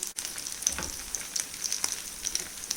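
Rice flour cutlets made from leftover rice fry in a large pan over medium flame, giving a steady close sizzle with small crackling pops throughout and no talking.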